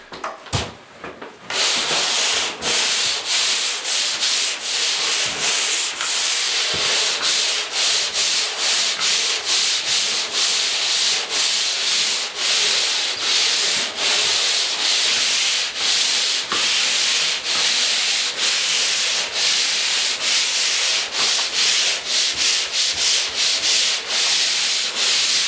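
Hand sanding of drywall with sandpaper in a basement bedroom renovation, a loud, close, continuous rasping scrub with rapid back-and-forth strokes for most of the clip, starting after a brief quieter moment.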